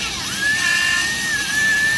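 An electric motor spins the driven shaft of a WizzJet build, rising quickly into a steady, high-pitched whine that holds close and loud for the rest of the clip.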